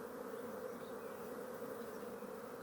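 Honey bees in a stacked beehive during a June inspection, a dense steady buzz from many insects close by, unbroken throughout and with no voices.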